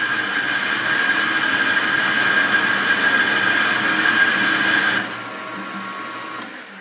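Boring bar cutting metal on a lathe, a loud steady high-pitched squeal holding for about five seconds before dropping away to quieter machine hum.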